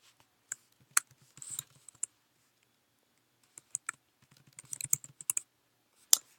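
Computer keys and a mouse click in quick, scattered bursts, with short flurries of light typing separated by pauses and a sharp single click near the end, close and fairly quiet.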